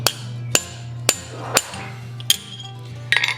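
A small, dull chisel is hammered through soft copper sheet to cut the mouth of a mask. It gives about six sharp, ringing metallic strikes at an even pace, close up, over a steady low hum, ending in a quick cluster of taps.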